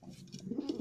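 Madrasi pigeon cooing in a Kolkata loft, a soft low rolling coo repeated several times close by, with faint rustling and no voices.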